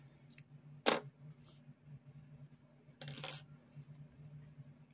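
Scissors snip through crochet yarn after a slip stitch on a jellyfish piece, two short crisp cuts about two seconds apart over a quiet low hum, with no talking.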